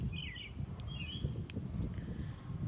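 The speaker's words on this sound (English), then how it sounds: "Do you guys hear how pretty those birds sound?" Songbirds sing outdoors in spring, a few short bright chirps and warbled phrases standing out over a steady low rumble of background noise such as distant lawn mowing.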